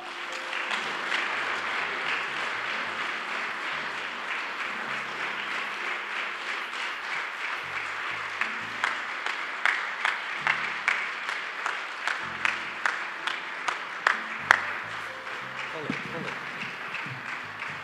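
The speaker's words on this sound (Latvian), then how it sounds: "Ar skaļiem aplausiem" Applause rises at a volunteer award ceremony in Latvia as an honoree is announced. Broad, steady clapping with low background sound underneath gradually gives way to sharper, rhythmic unison claps near the end.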